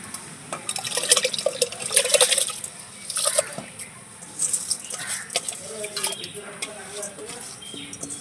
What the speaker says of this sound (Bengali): এবার আমি চালটা ধুয়ে রেখেছি দিয়ে দেবো